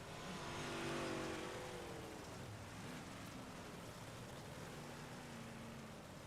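Big block modified race cars roaring around the Charlotte dirt track, a steady far-off engine drone with a swelling rise early on and continuous crowd-and-track wash, no one speaking.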